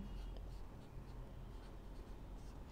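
A pen or chalk scratches across a board during a physics lesson on kinematics, giving soft, quick strokes of writing that stay faint with no one speaking.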